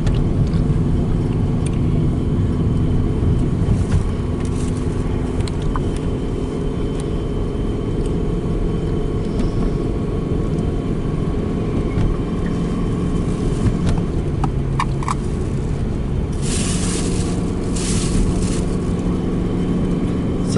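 A car climbs Red Mountain Pass on Highway 550 at the speed limit on a steep grade of about 15%, its engine and road rumble a steady, close drone throughout, with brief higher rattles or wind near the end.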